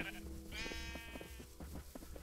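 Black sheep bleating in the video game Minecraft, one clear wavering bleat under background game sounds, with no talking.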